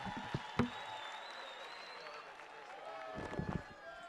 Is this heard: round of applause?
yes